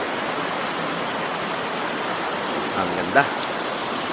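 Water rushes down from Gabaldon Falls in a steady, broadband outdoor wash that stays constant throughout, with a person briefly speaking near the end.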